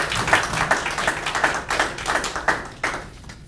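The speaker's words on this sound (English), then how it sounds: "So if everyone could give her a round of applause," A small audience at a YMCA annual meeting claps for an award recipient, with distinct individual claps in an uneven, moderately close patter that tapers off toward the end.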